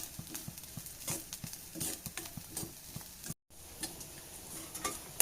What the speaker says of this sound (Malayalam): നമുക്കിതൊന്ന് കരിയാതൊന്ന് വറുത്തെടുക്കാം